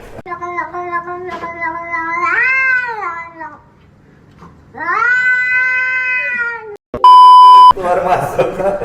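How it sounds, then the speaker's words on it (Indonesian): A cat gives two long, drawn-out, whiny meows close by with a short pause between them, followed by a loud electronic beep and some rustling. "Kucing banget. Kucing."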